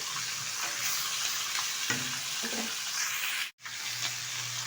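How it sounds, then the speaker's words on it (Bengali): Fish heads fry in hot oil for a Bengali muri ghonto, giving a steady loud sizzle with soft stirring and turning scrapes, broken briefly by a sudden cut of silence before the sizzling resumes. "মাছের মাথাটা একটু কড়া করে ভেজে নেবে। উল্টে পাল্টে ভালোভাবে ভেজে নিচ্ছে"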